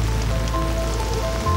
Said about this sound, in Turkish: Yağmur.